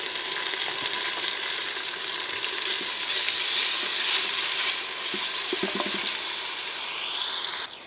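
Ground ginger garlic paste hits frying golden onions and sets off a loud, continuous sizzle and hiss, broken by a few scraping stirs of the spoon.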